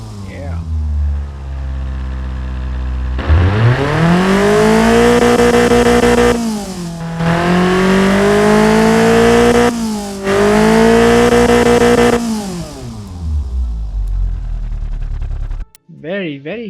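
Ford Zetec SE inline-four engine replica with individual throttle bodies, revved repeatedly: three long sustained blips that climb, hold and fall back, loud and close, between a lower idle at the start and end.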